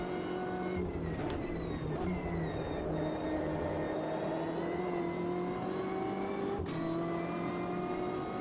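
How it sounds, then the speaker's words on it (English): BMW M8 GTE race car engine in the Automobilista 2 racing game at Laguna Seca, a loud continuous high-pitched drone that rises and falls as the car accelerates, with brief gear-shift dips. "Car sounds quite good though."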